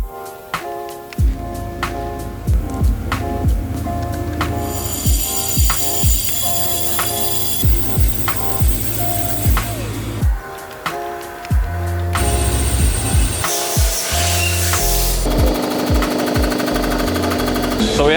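A Rottler diamond hone works a Cummins 5.9 engine block cylinder with a loud, steady mechanical whir and rhythmic repeating knocks, shifting pitch in stages as the tool strokes, close up, with a voice speaking at times.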